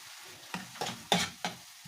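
Shakshuka being stirred in a pan after turmeric is added, with four distinct scraping strokes over a steady low sizzle, each stroke sharp and close.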